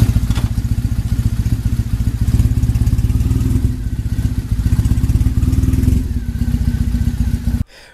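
Triumph Bonneville motorcycle engine idling loud and close after a clutch replacement, a steady rapid thumping pulse with slight swells in speed before it cuts off abruptly at the end.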